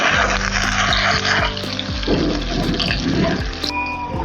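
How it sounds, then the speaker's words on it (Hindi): A large red onion fries in a pan on a stovetop, giving a steady, close crackling sizzle with some watery hiss, alone and loud, as it cooks toward light brown. "बड़ी साइज़ की एक लाल वाली हमने प्याज ली है, वो मैं डाल रही हूँ पैन में।"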